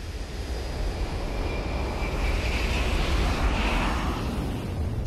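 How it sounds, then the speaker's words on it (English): Loud, steady roar of a jet engine used as a sound effect in an IMAX cinema pre-show, sustained broadband thunder that swells slightly mid-way and holds for the whole stretch with no voices. "to the thunder of a jet engine."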